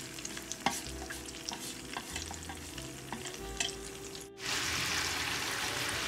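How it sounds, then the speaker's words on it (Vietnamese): Pork intestines fry in a pan with stirring and light crackle, then after a brief break the poured-back marinade sends up a louder, continuous bubbling hiss. "cái nước ướp hồi nãy đó các bạn đổ ngược trở vô trong cái chảo này dùm cho mình"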